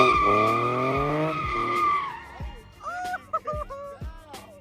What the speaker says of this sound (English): How'd you do donuts in this car?